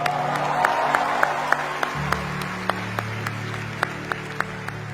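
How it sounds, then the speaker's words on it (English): A large crowd at a live comedy roast applauds, a dense wash of clapping with a few sharper individual claps standing out, steady and continuous throughout. "Huge round of applause."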